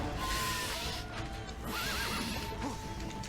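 A horse in a fantasy role-playing game gives a whinnying neigh, fairly faint within a layered game soundscape of ambient noise and a few clattering impacts.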